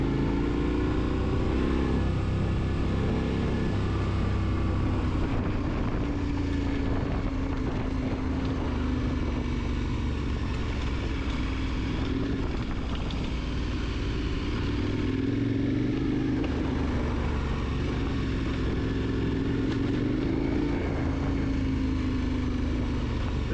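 A KTM 1290 Super Adventure R motorcycle riding off-road, its engine a continuous loud drone with rising and falling revs, buffeted by heavy wind noise throughout and no talking.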